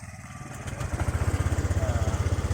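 Motorcycle engine with an idling stop system, revved up past 1500 rpm, close by: a steady pulsing throb that rises and grows louder partway through, with a brief faint voice early on.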